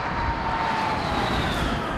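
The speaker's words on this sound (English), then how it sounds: "This is what high-performance cars are going to sound like in the future." A Drayson Racing 850 hp electric Formula E race car drives past on a test track at Rockingham, a smooth continuous electric whine with a faint sliding tone over steady road and wind rush, fairly distant.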